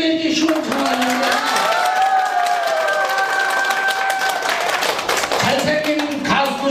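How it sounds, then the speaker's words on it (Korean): Elderly residents in a nursing home audience clap through a live performance, with steady applause running underneath a sustained tonal sound and crowd murmur. "근데 박수들이 이제 시원찮아졌는데"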